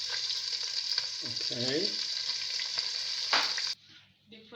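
Fish browning in hot oil in a pan while cooking Gambian food, a steady loud sizzle and crackle with a brief stir, then a sudden drop to quieter frying near the end; a voice speaks briefly.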